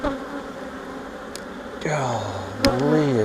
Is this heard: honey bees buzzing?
yes